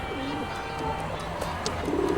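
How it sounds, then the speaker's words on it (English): A dove coos softly a few times at middle distance over a faint outdoor background, with a brief voice-like murmur nearby. "Dove."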